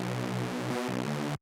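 A thick synth bass layer built from four unison voices holds a sustained buzzing tone, shifting pitch briefly near the middle before settling again, then cutting off abruptly.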